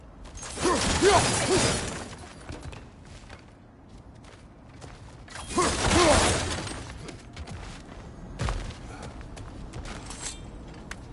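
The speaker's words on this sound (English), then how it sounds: "back to smashing through things for fun and profit" Objects smashed in God of War Ragnarok, two loud bursts of crashing and shattering debris several seconds apart, followed by a lighter thud and clatter over quieter game ambience.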